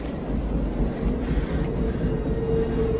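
A passing train in a movie scene, a steady loud rumble and roar of rail cars sustained throughout, with a faint high whine appearing near the end.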